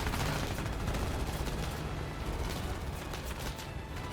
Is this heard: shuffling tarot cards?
no